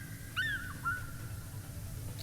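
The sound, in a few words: birds chirping in PowerWash Simulator video game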